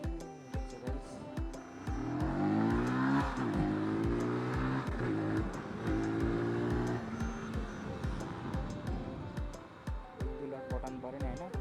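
A new Benelli 180S motorcycle engine idles with a throbbing pulse, then revs up and down in rising and falling sweeps before settling back to a rhythmic idle, heard close and fairly loud.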